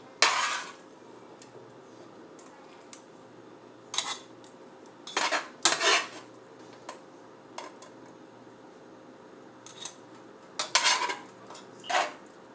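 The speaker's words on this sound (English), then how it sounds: "So I'm going to add in the noodles in there." Noodles going into a pan with a spoon clattering against the pot, several sharp metallic clinks and scrapes spread out over a quiet background hum.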